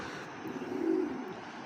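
A racing pigeon, a one-year-old hen flown in races, gives a low, soft coo that swells briefly in the middle over a faint background hum.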